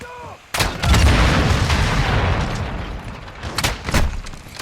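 Gunfire in the video game Call of Duty: a loud, sustained barrage of heavy shots and booming blasts after a brief quiet start, with sharper bursts near the end and no talking.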